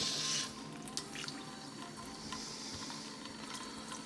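Cold water runs and splashes softly from a tap over fresh paneer, with faint sloshing and a few small knocks, fairly quiet and continuous.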